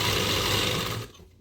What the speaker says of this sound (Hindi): बैक साइड की सिलाई होगी हमारी